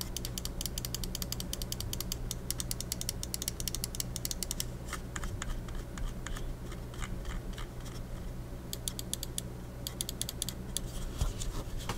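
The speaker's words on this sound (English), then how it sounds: "This is how the buttons sound." Button clicks of a Xenics Titan GE wireless mouse: rapid bursts of sharp, close clicking, sometimes in quick runs and sometimes pausing, steady and moderately loud with no talking.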